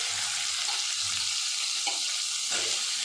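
Chopped chayote and onion sauté in a hot pan as they are stirred, giving a soft steady sizzle with a few faint scraping stir sounds and no voices.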